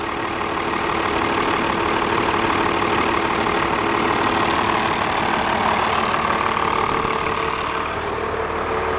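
A 1995 Dodge 3500 dually with a Cummins diesel engine and a 5-speed manual idles steadily at close range, a continuous loud rumble with slight blow-by, unbroken for several seconds.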